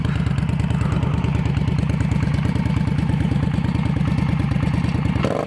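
An Indian Scout motorcycle idles through a Dean Speed Rampage exhaust with baffles fitted, a loud, close, steady pulsing rumble that runs unbroken and drops away just before the end.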